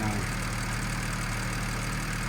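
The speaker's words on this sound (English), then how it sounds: "But the engine is running good." 2008 BMW 335 engine idling after a water pump and thermostat replacement, a steady, close, continuous hum with an even low rhythmic pulse and no talking.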